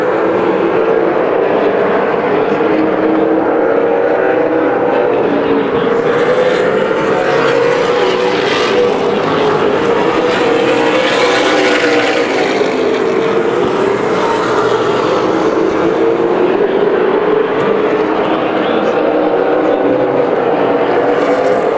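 Super late model race cars roar through a 15-lap heat race at a short oval bullring in Las Vegas, a loud continuous engine drone with shifting pitch as the pack circles, no talk over it.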